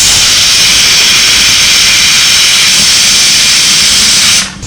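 A pressure cooker cooking chickpeas lets out a loud, steady hissing steam whistle that holds for several seconds, then cuts off abruptly near the end.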